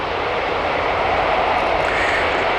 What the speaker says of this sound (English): we see the aircraft now go into beta thrust and start to reverse up the runway